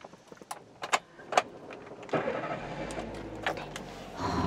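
An older accident-free used car with about 60,000 km and an old-style ignition key starts up close by: soft clicks and key rattles, then the engine cranks and settles into a steady low idle.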